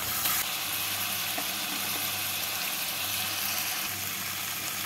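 Chicken pieces frying with spices in a pan for a green masala curry: a steady, loud, continuous sizzle with faint crackling and no voices throughout.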